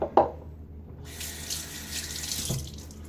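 Water runs from a tap into a shaving bowl, a steady close splashing stream that starts after a short knock and continues alone for a few seconds.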